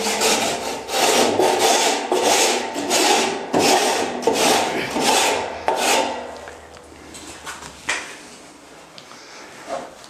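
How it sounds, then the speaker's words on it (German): An edge plane shaves along the edge of plasterboard in a drywall job, with a series of rhythmic rasping strokes up close, each stroke loud and scratchy, then fading to a few lighter passes. "Dann nehme ich immer den Soformhobel."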